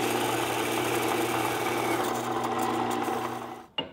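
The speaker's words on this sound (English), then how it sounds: "Making the pins out of 1-inch round bar, which I cut to length in the bandsaw." A bandsaw cuts a 1-inch round steel bar to length with a continuous, even whirring drone up close that fades as the cut finishes.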